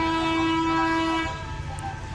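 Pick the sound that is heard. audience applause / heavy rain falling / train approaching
train approaching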